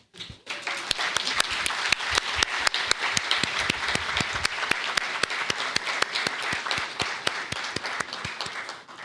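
Steady applause from a crowd, sustained and fairly loud throughout, with individual sharp claps standing out in the dense clatter.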